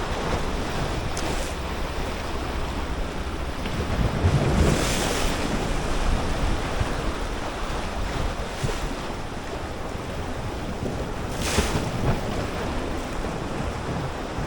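Ocean surf rolls and breaks along a Jamaican shore, a steady wash of waves with surges of crashing water every few seconds, overlaid by strong wind buffeting the microphone; no voices are heard.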